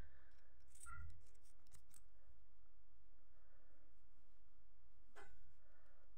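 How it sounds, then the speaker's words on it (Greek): Small scissors trim the yarn of a knitted eye-shaped decoration. Two sharp, close snips about four seconds apart stand out in an otherwise quiet room. "Παίρνουμε το ψαλιδάκι μας και αρχίζουμε και ευθυγραμμίζουμε."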